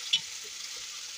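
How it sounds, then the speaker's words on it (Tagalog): Lamb soup with vegetables sizzling and frying in a pot as it is stirred, a steady close hiss with a faint scrape of the spoon near the start, no voices. "Haluin na natin siya"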